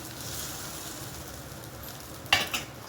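Bread omelette frying in a pan just after being flipped, a quiet, low sizzle that carries on softly, with one sharper clink or scrape near the end.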